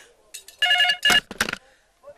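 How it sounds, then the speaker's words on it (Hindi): A telephone ringing in a Hindi comedy scene gives a few short electronic ringtone bursts, bright and close, with brief voice sounds between them. "लगता है सलीम का कर्जे के लिए फोन आया है"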